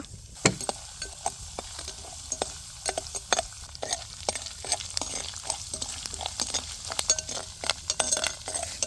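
Curry leaves and dried chillies sputter and crackle sharply in hot oil, with frequent irregular pops and a spoon stirring through the pan.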